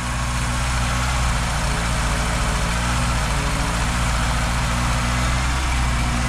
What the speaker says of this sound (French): À mon avis, le moteur il doit résonner sur un truc